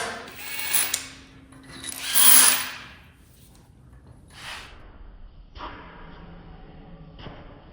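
Power tool whirs in a few bursts as a bolt is backed out of a GMC engine head, the loudest burst in the middle, with faint ratcheting and clatter between and toward the end.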